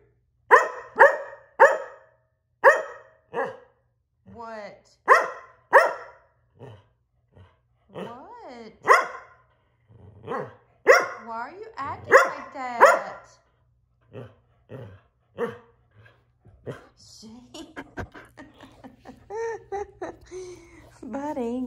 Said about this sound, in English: He loves to bark.